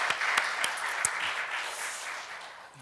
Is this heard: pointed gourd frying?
no